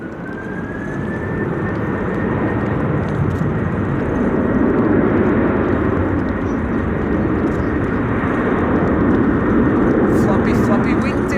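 Cargolux cargo plane at Amsterdam Schiphol airport, a steady loud jet engine roar that swells and holds throughout, with a faint rising whine and wind noise.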